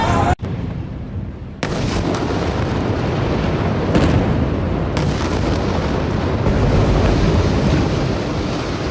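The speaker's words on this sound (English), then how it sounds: "إذن قصف إسرائيلي في قطاع غزة لبرج الشروق" An Israeli airstrike on the Al-Shorouk tower in Gaza, a loud, sustained rumbling roar of explosion and collapse with abrupt bursts, filling the whole stretch without speech.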